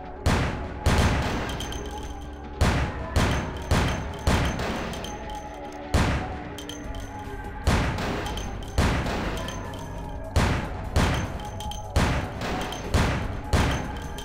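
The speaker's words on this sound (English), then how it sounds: "I don't understand how he's so good at shooting at me." Repeated gunshots in a shooting video game, a dozen or so sharp reports at irregular intervals, each with a short reverberant tail over a steady background hum.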